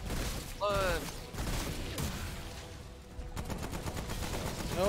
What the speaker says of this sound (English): Oh, I missed most of those shots